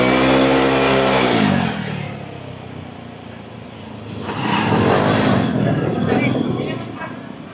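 A Vespa scooter fitted with a CVT kit and Remus exhaust revs hard and loud, a steady harmonic drone breaking into a rough roar, easing off, then swelling again in a second burst.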